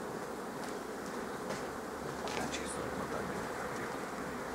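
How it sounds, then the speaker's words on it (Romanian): Honeybees buzzing in a dense, steady drone around hives at an apiary during spring work, loud and continuous throughout. "E mult albine în aer."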